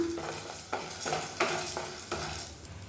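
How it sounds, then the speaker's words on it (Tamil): Chana dal being dry roasted and stirred in a pan, giving a soft continuous rustle and gentle sizzle with periodic scraping strokes of a spoon, close and fairly quiet. "இந்த கடலைப்பருப்பை நல்லா வறுத்துக்கலாம்."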